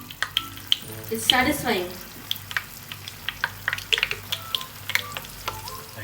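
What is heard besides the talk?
paneer frying in hot oil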